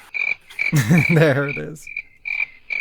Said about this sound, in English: There's a crickets in the audience.